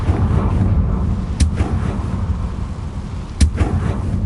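In Hogwarts Legacy, a Confringo fire spell goes off over a low rumbling ambient bed, with sharp, bright blast cracks at about 1.4 and 3.4 seconds, fairly loud and near.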